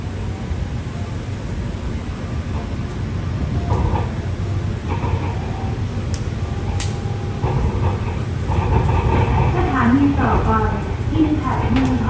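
A Pink Line electric train on the Muang Thong Thani extension pulls out of a station with a steady, loud rolling rumble and rising whine, overlaid by a voice talking throughout.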